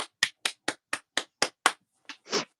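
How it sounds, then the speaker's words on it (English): A short round of applause for a guest: about eight sharp, evenly spaced hand claps, close and fairly loud, then a brief pause and a couple of softer, looser claps with no talk over them. "let's have a round of applause for Darren for waking up and joining us"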